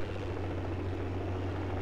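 A military helicopter in the combat game Project Reality runs with a loud, continuous rotor and engine roar, close and steady throughout, with no voices.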